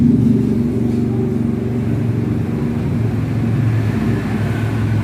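A 125cc off-road motorcycle engine runs loud and close with a deep, steady rumble that swells slightly, heard without voices over it.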